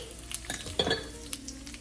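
Soft sizzling of mustard seeds frying in a pan with scattered pops, and a spoon scraping and clinking as they are stirred, heard up close without talk.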